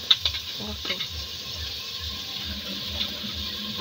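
Onion, ginger, garlic and turmeric frying in hot oil in a pot while being stirred, with a steady close sizzle broken by scraping stir strokes.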